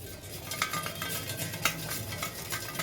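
Crispy onion pakoras (peyaji) fresh from an air fryer, tossed and stirred in a metal container, giving a run of dry rattling clicks and scrapes at close range with no talking.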